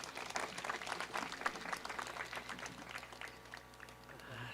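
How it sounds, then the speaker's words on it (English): An audience at a university graduation ceremony claps steadily for a graduation candidate. The applause is dense and sustained, heard from a distance in a large hall, and it tapers off toward the end while tonal sounds rise underneath. "Let's give a wide clap again."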